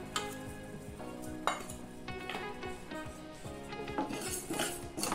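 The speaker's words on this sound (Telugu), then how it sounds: "ఒక ప్యాన్ పెట్టుకొని ఇందులోకి మసాలా దినుసులు వేసుకొని దోరగా వేపుకోవాలి" Whole spices, coriander seeds and split black gram among them, dry-roast in a pan over a low flame, a spoon scraping and clinking against the metal in quick repeated strokes over a soft dry sizzle, close and alone.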